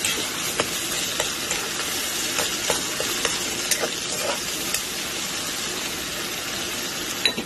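Bagoong with dried shrimp stirred in a hot pan, a steady sizzle and frying hiss with scattered scraping clicks of the utensil against the pan, close up and without voices.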